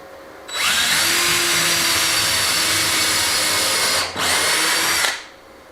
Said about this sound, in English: I'll get them in and get them all drilled out